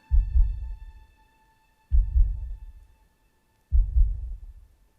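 Synthesized heartbeat from a Roland JD-Xi synth: three deep, thudding low pulses spaced about two seconds apart, each a doubled beat fading out, over a faint steady high keyboard tone.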